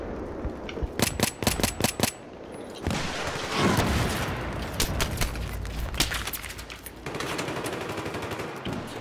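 Loud, close automatic gunfire from the Battlefield 3 Kharg Island map in Conquest mode: rapid bursts of rifle fire, then a dense stretch of continuous shooting with more distant shots layered underneath.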